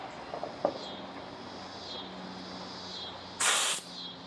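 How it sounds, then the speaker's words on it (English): Compressed air hisses briefly and loudly into an old Soule steam engine freshly filled with oil, a short burst late in a quiet moment, with faint clicks and handling noises before it. "shoot a little air to it and see what it does."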